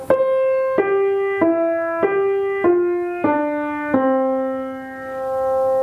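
A slow piano melody of "Silent Night" in single notes, each struck clearly and left to ring, stepping downward at an even unhurried pace, close and fairly loud.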